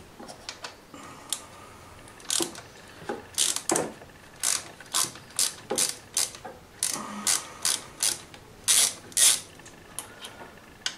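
A ratchet loosening the screws on a scooter's intake pipe while the carburettor is changed on a Typhoon, Stalker or Zip-type scooter: close, crisp clicking in short rhythmic bursts, repeated many times with brief pauses between the turns.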